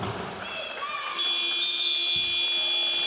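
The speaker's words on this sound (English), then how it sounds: "As the final buzzer goes," A loud, sustained electronic buzzer sounds at the end of a women's basketball game in an indoor arena, ringing steadily over crowd noise with a commentator talking at the start.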